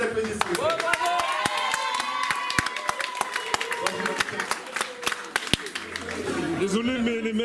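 Festival crowd clapping in scattered, sharp hand claps of uneven rhythm, mixed with chatter and a speaking voice, at moderate loudness.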